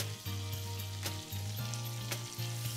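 Village-style desi chicken masala curry frying in a pan, a steady loud sizzle broken by scraping stirs and a few clinks of the spoon against the pan, close and continuous.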